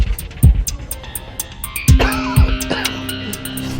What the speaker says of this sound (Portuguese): Bernie acorda com um ataque de tosse incontrolável.